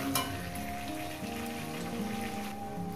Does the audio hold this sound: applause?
no